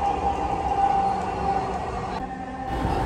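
A Dhaka Metro Rail train runs through Shewrapara station, its steady loud rumble and whine filling the car, with a sharp drop in the high hiss near the end.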